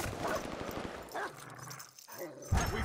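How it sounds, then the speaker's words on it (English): Attack dogs in a shooter video game bark and yip in short bursts, mixed with game audio and speech. "Attack dogs called in,"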